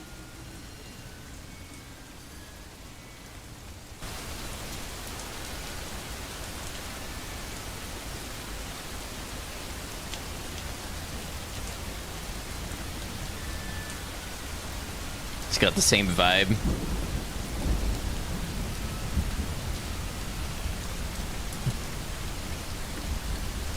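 Steady rain pours inside Fallout 4 with a Silent Hill-style horror mod, with a sharp, crackling thunder strike about two-thirds through, and a person briefly talks over the rain.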